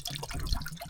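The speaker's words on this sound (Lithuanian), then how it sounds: "Pilam vandenį." Water poured into a pot on a gas stove aboard a boat, a brief, faint splashing trickle lasting about a second.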